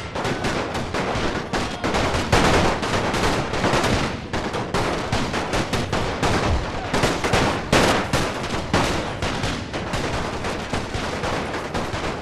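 Soldiers in a First World War video game fire a rifle volley: dense, overlapping gunshots crack in loud, nearly continuous bursts for the whole stretch, with no talk.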